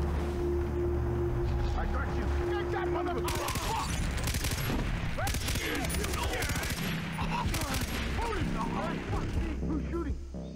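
Automatic gunfire from a light machine gun in Far Cry 3, with dense rattling bursts and crashing impacts in a loud, busy firefight that continues throughout, with talk over it.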